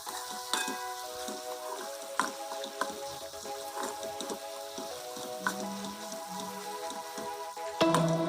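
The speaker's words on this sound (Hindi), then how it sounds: "ये थोड़े भून लेती है मसाला पूरा।" Spice masala for a cauliflower leaf sabji roasts in a pan, a soft crackling sizzle with occasional sharp pops and intermittent scrapes of a spoon, fairly quiet and without talk.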